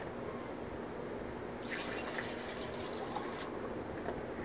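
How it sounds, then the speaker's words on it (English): Distilled water pours into a Smart Car's coolant reservoir, a faint steady trickle with a brief brighter splash in the middle, heard alone without talking. "And we just add our distilled water."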